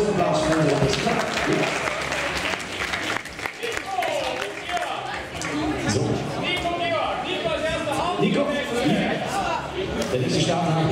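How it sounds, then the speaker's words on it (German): Audience applause and cheering at an outdoor parkour and freerunning jam in Linz, a dense crowd of clapping mixed with chatter and a loudspeaker announcer talking over it throughout. "Und einen großen Applaus für den Lehrer."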